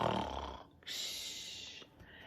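A voice imitates snoring with a rough, rumbling inhale followed by a long airy hiss, close up and fairly quiet.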